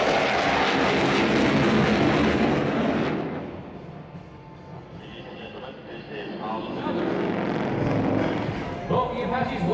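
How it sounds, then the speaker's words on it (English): Two AH-64D Apache attack helicopters fly a display at the Singapore Airshow, their loud engine and rotor roar dipping briefly and swelling again while an announcer talks over it. "Both the Apaches will pull up into a vertical climb, then making a spiral descent to demonstrate the agility of this attack helicopter"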